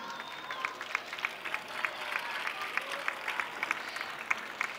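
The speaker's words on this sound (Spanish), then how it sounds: "para que pida un aplauso" An audience applauds at a town fair's opening proclamation in Torreperogil, a steady patter of clapping from a crowd that is fairly faint and distant and continues throughout.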